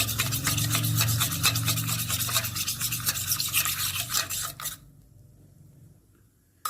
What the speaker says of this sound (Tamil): ஸோ அதை இதில் போட்டு கட்டி தட்டாமல் நல்லா மிக்ஸ் பண்ணி விட்டுக்கோங்க.